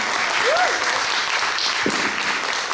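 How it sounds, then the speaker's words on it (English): A panel audience breaks into steady applause, a dense wash of clapping that carries on throughout, with a brief voice rising over it. "you can clap for that"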